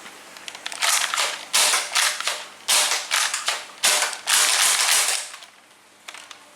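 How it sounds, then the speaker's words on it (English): Modified Nerf Strong Arm blaster firing foam darts, a run of sharp, loud snapping pops, several in quick succession and then spaced out, each with a brief hissing tail, close by. "This is the modified Strong Arm firing streamlines."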